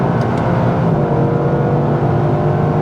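A 2024 Toyota GR Yaris with a torque-converter automatic gearbox pulls hard, its engine note loud and near with quick upshifts breaking a continuous, buzzing acceleration.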